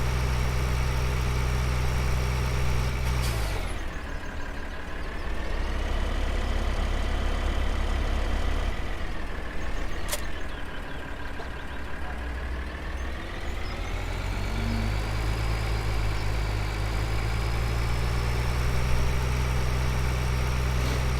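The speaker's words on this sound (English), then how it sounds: "with the new barrel weight, this tractor handles a lot better, and also because it has more traction, it can get a higher top speed" A tractor engine in the Farming Simulator 2013 video game drones steadily and loudly, its pitch dipping and rising as the vehicle drives along, with no talk over it.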